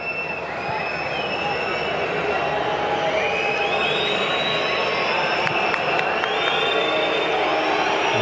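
Football stadium crowd at Wolfsburg murmuring in a steady, dense wash of noise throughout, with a few faint whistles and tones rising over the constant hum.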